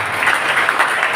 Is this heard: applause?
yes